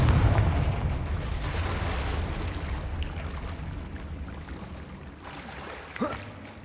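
Spell explosion from the Confringo fire curse in the video game Hogwarts Legacy: a loud low boom at the start that decays into a long rumbling roar, with a smaller crack near the end.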